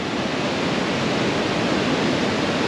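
Calypso Cascades, a waterfall on St. Vrain Creek in Rocky Mountain National Park's Wild Basin, gives a loud, constant rushing roar of tumbling water, close and unbroken, with no voices.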